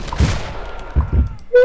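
A double-barrel shotgun fires in Killing Floor 2. There are a few heavy, booming blasts, one early and then two close together, with a brief voice at the end.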